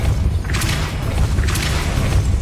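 A Depulso spell impact in the Hogwarts Legacy video game, heard as two hissing bursts a second apart over a steady low rumble.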